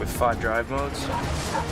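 A dog in a Nissan Rogue ad gives a few quick yips and barks, mixed under a narrator's voice.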